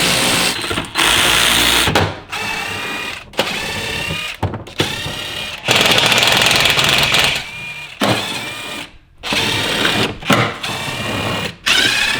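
Ratchet or powered driver removing 4mm hex bolts from the wheel houses of a Ferrari 458, rapid mechanical whirring in several long bursts separated by brief pauses, close and loud.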